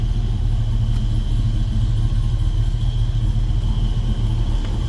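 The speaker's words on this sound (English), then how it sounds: "And this car sounds good too." A 1939 Ford Deluxe Tudor sedan street rod idles with a steady, deep low rumble from its engine, heard up close and alone.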